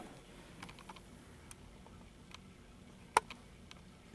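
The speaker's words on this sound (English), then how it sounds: "The Corsair K70 keyboard." A Corsair K70 keyboard typed on slowly, giving sparse, light key clicks with one sharper tap, close by and faint over a quiet background hiss. No one speaks.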